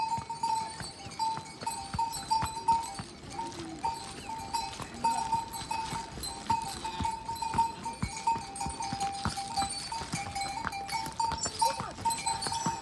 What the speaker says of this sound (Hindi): घोड़ा है कि खच्चर है या मिक्स ब्रीड है